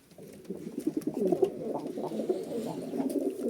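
Pigeons cooing at a bird market, with soft overlapping coos from several birds continuing throughout, fairly close and steady, with no talk.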